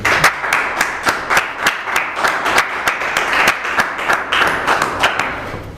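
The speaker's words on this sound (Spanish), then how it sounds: "Pido un aplauso para el ponente." Applause for the lecturer after a history talk on early modern Castile, a moderately sized audience clapping in a steady, fairly even rhythm of distinct claps.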